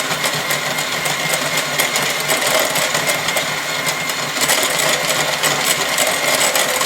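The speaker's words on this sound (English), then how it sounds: "So mix this really well till it starts to get a little bit fluffy. You can increase your mixer if you wish." An electric mixer beats chocolate cake batter with a constant loud whirring drone and a rattling edge that stays steady throughout, with no voices.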